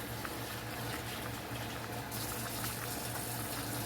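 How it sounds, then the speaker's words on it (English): Water pouring into an emptied tomato sauce can makes a continuous close, faint gushing and bubbling fill with no pauses, alone without talking. "I'm going to add a little water to the can"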